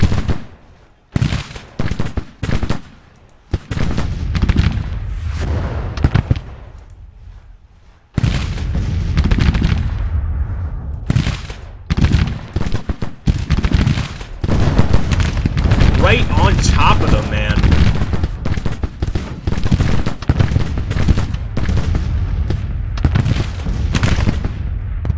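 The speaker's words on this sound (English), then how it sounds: "Oh, that is such a nice volley." Musket volleys and artillery in the Civil War strategy game Grand Tactician, Battle of Chickamauga: dense crackling bursts and deep booms, sparse at first and then a continuous loud barrage, with someone talking over it.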